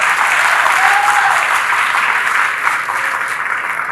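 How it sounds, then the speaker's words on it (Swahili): Loud audience applause at a football club president's address about stadium construction, a dense continuous roar of clapping from a large crowd, close and sustained, easing slightly toward the end. "Tuwapige makofi"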